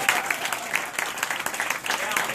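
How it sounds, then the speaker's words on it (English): A business presentation audience breaks into brisk, close applause that stays steady for a couple of seconds, with voices mixed faintly into the clapping. "Give that a round of applause."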